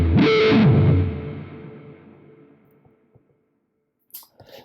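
An electric guitar runs through a wah filter on a Quad Cortex: one loud, distorted strum whose tone sweeps audibly, then rings out and decays into near silence before a few faint clicks.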